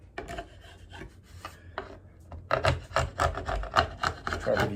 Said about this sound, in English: I'll just scrape off the glue squeeze out.